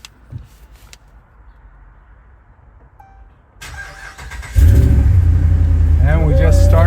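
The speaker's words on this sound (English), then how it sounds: "And we just started the truck, and I programmed this key." A Ram 1500 pickup's engine cranking and catching after a quiet cabin lull, settling into a loud, steady close-up rumble; a person talks over the running engine.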